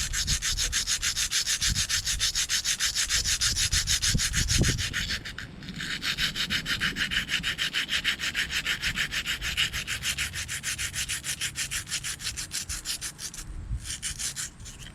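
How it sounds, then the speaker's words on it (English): An Inuit knife blade is ground to an edge in a continuous, steady rasping scrape, close up, with a brief pause partway through and no talk. "Little grind on this side."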